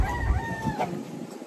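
A native rooster crows once at a poultry farm delivering Dekalb white hens, a short, moderately close call that trails off, with no talk.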